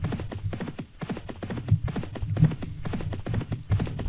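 Racehorses galloping in a stayers' race: a dense, rapid drumming of many hooves pounding turf, steady and fairly close, with no talk over it.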